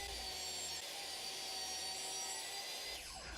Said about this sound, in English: I set the bevel of my miter saw to 45 degrees and started cutting the side pieces to the correct length